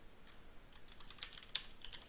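Quiet, close typing on a computer keyboard, with irregular clicking keystrokes and an occasional sharper tap, heard alone in a still room.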